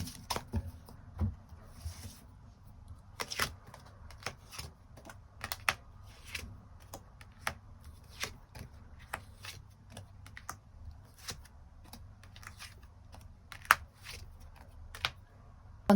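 Tarot cards handled at a table as extra cards are drawn: soft, close clicks and flicks scattered irregularly over quiet room tone, some sharper snaps standing out.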